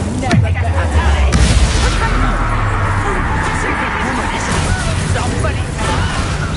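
In Hogwarts Legacy, an Incendio fire spell goes off amid combat. Loud booms and crashing bursts come over dense, chaotic battle noise, with voices heard in the mix.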